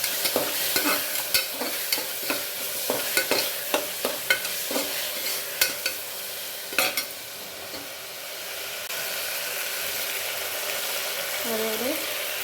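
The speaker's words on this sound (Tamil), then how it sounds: "இஞ்சி பூண்டு பேஸ்ட்டு வாசனை நல்லா போகிற வரைக்கும் வதக்கணும்." Ginger garlic paste sautés in a pan with a continuous sizzle while a spoon stirs in regular scraping strokes for several seconds, then the stirring stops and the frying hiss carries on alone.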